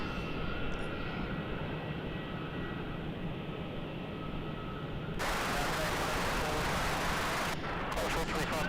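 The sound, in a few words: Qantas airliner landing at Melbourne Airport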